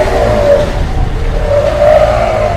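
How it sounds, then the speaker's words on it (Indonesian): A box van car passes by outside, its engine and tires making a steady loud rumbling whoosh with a rising and falling drone across the whole stretch, no talk over it. "Si pembalap mobil box lewat."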